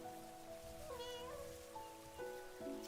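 Cat meowing in the video game Where Winds Meet, a few rising, tonal mews standing out over a steady background bed of ambient game music and rain-like hiss, with no talking.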